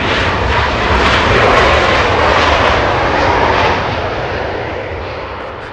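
A United Airlines Boeing 737 MAX 8 arriving at Los Angeles from Houston, with a loud, close jet engine roar that peaks early and then fades gradually as the aircraft passes, with no one speaking.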